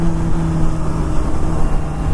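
A 600 supersport motorcycle's engine drones steadily while riding, a constant loud hum with wind rush and a faint rise in revs, heard close and alone.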